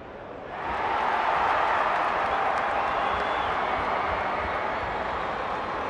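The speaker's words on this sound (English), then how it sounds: "The crowd already making plenty of noise as the captains come together" Stadium crowd at an AFL match between Carlton and Hawthorn in the 2024 season rises quickly into a loud, steady, sustained roar of thousands of voices that holds at an even level.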